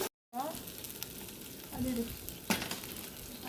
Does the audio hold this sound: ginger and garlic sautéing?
yes